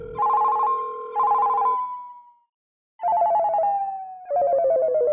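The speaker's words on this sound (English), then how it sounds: "Right away, heard his phone ringing from inside the house." A ringtone rings loud and clear inside a house, in four warbling tone bursts, two paired rings, a pause, then two more at a slightly lower pitch.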